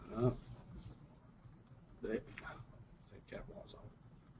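Keys on a computer keyboard tapped while entering a command in MicroStation, a few quick clustered bursts of clicks spread over several seconds, fairly faint and close, with a voice speaking in the room around them.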